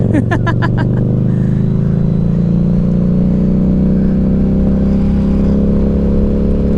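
A Harley-Davidson Street motorcycle engine while riding, a loud close continuous drone holding steady with little change in pitch and no talking.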